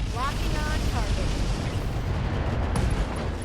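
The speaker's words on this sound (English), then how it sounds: "SRM ammo explosion." SRM ammunition blowing up in the mech combat game RogueTech, a dense roaring rumble of blasts and bursts that fills the clip, with tonal electronic beeps near the start.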